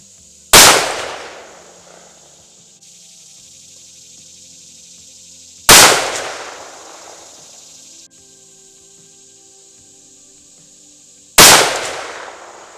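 Three loud, sharp rifle shots from a Kimber 84M firing 150 grain bullets, spaced about five seconds apart, each with a fading echo tail across an open range.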